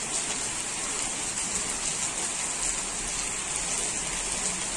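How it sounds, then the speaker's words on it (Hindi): Heavy rain pours steadily in Uttarakhand, a dense, continuous hiss of water drumming on surfaces that stays loud and even throughout with no voices. "और हो रही है बहुत सारी बारिश, बहुत ही ज़्यादा बारिश हो गई है"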